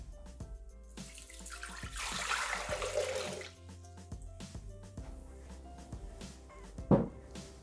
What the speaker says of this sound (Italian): Versiamo all'interno del boccale l'acqua.